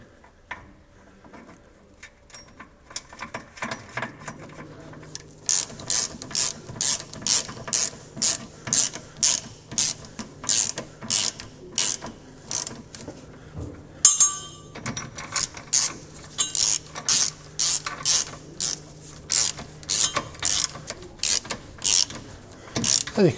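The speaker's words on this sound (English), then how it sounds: "I'm just tightening these up evenly so that the bushes don't come out of the flange." A ratchet wrench tightens the nuts on a Triumph TR6 differential's bushes, with rapid, crisp repeated clicks in quick bursts, close up and alone, after a few seconds of quieter fiddling.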